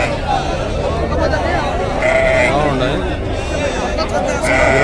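Sheep and goats bleat repeatedly amid a busy livestock market in Mydukur, with a crowd murmuring and people talking throughout, the animal calls fairly close and loud.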